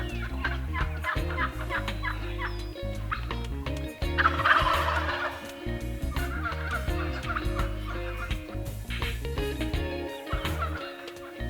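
Wild turkeys gobble repeatedly in bursts during a Kansas spring hunt, several birds calling close by with rattling, overlapping gobbles and a few clucks between them.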